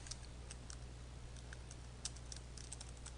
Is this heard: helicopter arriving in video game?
no